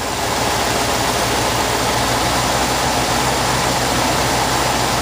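A 1966 Ford Thunderbird engine with a newly made carburetor idles steadily around 800 RPM, a loud, constant low rumble with no talking.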